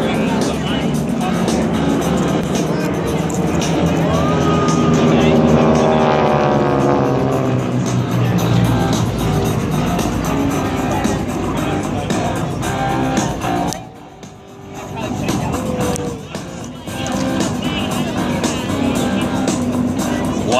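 GEICO Skytypers propeller aircraft roar overhead at an air show as the formation splits in a Bomb Burst, loud engine drone rising and fading with a brief dip, while an announcer speaks over the noise.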